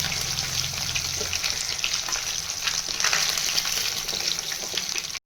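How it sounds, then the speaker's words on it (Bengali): Onion, garlic, ginger and green chili fry lightly in oil in a pan, a steady close sizzle and crackle with faint stirring scrapes, running unbroken until it cuts off abruptly at the end. "কড়কড়া করে ভাজার দরকার নেই, এরকম হালকা করে ভাজা হলে উঠিয়ে নিতে হয়"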